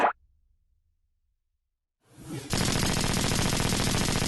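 Animated cartoon machine gun fire from a Transformers robot: after a brief burst and near silence, a rising whoosh leads into a loud, dense, continuous roar of rapid shots.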